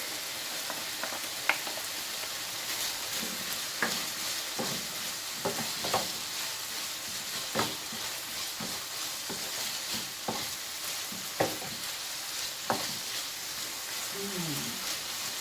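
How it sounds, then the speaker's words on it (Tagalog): Garlic frying in a pan for chicken with green chillies makes a constant close sizzle, with repeated scrapes and clacks of a utensil stirring it, and no voices. "Now let's add our garlic."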